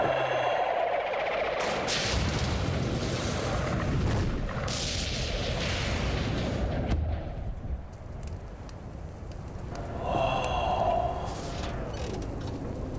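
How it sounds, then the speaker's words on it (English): Fireworks explosions in a sci-fi TV show: a dense, continuous barrage of crackling bangs and rumbling booms, loud and overlapping, with brief sharper bursts scattered throughout. "Looks like you got yourself some fireworks to celebrate the occasion."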